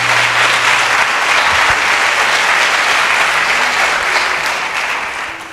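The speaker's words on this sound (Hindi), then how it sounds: "आइए प्रभु के इस वचन के लिए ताली बजाएंगे हम मिलके।" A church congregation at a Hindi-language worship service claps together in sustained, dense, loud applause that holds steady for several seconds and eases off slightly at the end.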